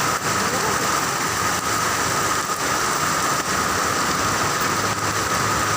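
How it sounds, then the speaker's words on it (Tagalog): Steady, dense hiss of heavy rain pouring down continuously on a flooding MacArthur Highway in Bulacan, loud and close, with no pauses. "matindi ang ulan baha"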